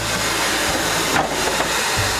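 Steam hisses steadily and loudly from a steam locomotive's boiler nearby, a continuous broadband rush with small surges and no talk.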